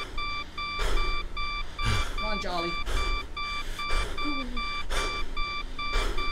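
Electronic beeps repeat at a steady pace in the Jolly 3 video game, a clear synthetic tone pulsing about once per second under a voice talking.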